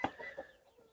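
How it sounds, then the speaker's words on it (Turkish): Broiler chicks in a poultry coop give a few short, faint peeps, one sharper chirp at the start followed by softer scattered calls. "7 tane civciv aldım."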